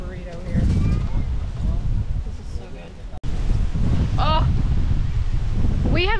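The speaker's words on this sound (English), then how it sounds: "the wind has not picked up. As soon as I turn the camera on, it's blowing." Wind gusts across a beach in Belize in a steady, loud rush buffeting the microphone, with talk and other voices over it throughout.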